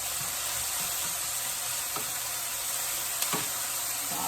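Roasted eggplant mixture for baingan bharta sautéing in a pan: a steady close sizzle with a few soft scrapes of a cooking spoon stirring.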